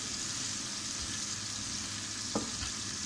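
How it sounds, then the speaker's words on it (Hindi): Tomatoes and chicken liver being stirred together in a frying pan on a tawa, a steady low sizzle throughout with a brief scrape of the spoon near the end, close and moderately quiet with no talking. "अब ये टमाटर और कलेजी को हम अच्छी तरह मिक्स कर लेंगे।"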